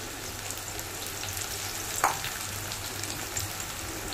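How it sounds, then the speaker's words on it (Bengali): Sliced onions sizzle steadily in hot white oil, a close, continuous frying crackle with a brief stirring scrape midway and no talk. "তেলটা গরম হয়ে গেলে আমি কিছুটা পেঁয়াজ তাতে দিয়ে দিলাম এবং হালকা লালচে করে বেরেস্তার আকারে ভেজে নিচ্ছি"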